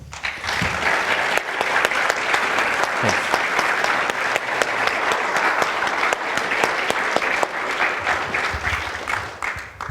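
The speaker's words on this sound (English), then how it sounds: "I think that both Everett and Peter deserve our applause." An audience at a western Canadian gathering applauds, sustained crowd clapping with crisp individual claps audible throughout, steady and fairly close, tapering slightly at the end.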